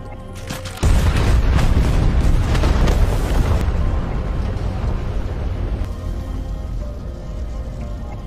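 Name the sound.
explosion from F-16 jet strike in a film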